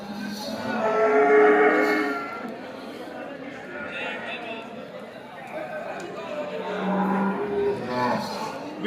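Cattle moo amid a busy cattle market in Dabwali, Haryana, with people chatting nearby; a long low bellow from a cow stands out early, with other lowing calls later over the crowd noise.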